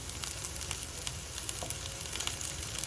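Onions sizzle and fry steadily in a skillet, a continuous crackling hiss with small pops throughout, close and even, with no talking.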